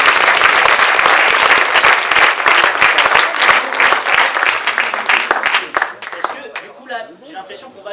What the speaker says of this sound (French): On applaudit Lucas quand même.